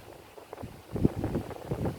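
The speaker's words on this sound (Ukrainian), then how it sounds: "вибачаюся за вітер" Low, rumbling gusts of wind buffet the microphone, swelling louder about halfway through and continuing in uneven bursts.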